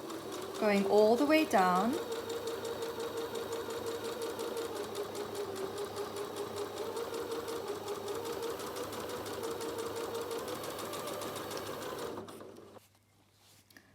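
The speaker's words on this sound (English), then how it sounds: "I'm now going to begin sewing using the same guideline." A sewing machine stitches a zip into fabric in one steady, rapid, close run of mechanical chatter that stops near the end. A brief voice is heard at the start.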